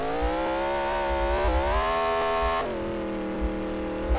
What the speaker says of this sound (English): Oh, for God's sake, this car's so loud.